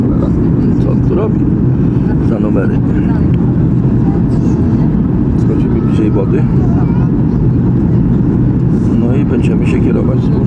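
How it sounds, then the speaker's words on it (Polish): A Ryanair airliner descends toward landing at Podgorica airport in Montenegro, heard as a steady loud engine roar with wind buffeting on the microphone throughout. "No widać tutaj samolot schodzi niżej."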